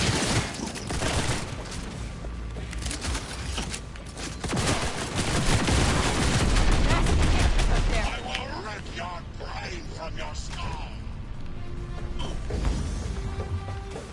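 Gunfire in Cyberpunk 2077 rattles through a dense, loud game mix of shots, crashes and mechanical clatter across the whole stretch, with a voice talking over the action.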